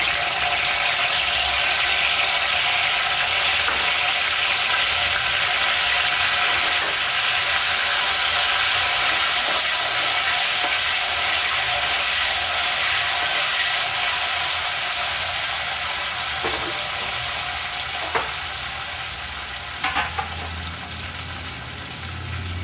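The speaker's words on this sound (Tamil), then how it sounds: "சுண்டவத்தை பொரிஞ்சிருச்சு" Dried turkey berries (sundakkai) frying in hot oil for a Chettinad tamarind gravy: a continuous bright hiss and crackle sustained throughout, with a few faint clinks near the end.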